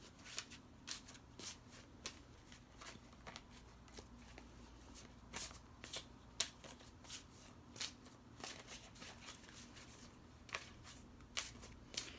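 Tarot cards being shuffled by hand, a steady run of soft riffling flicks and papery slaps, close and quiet with no talk.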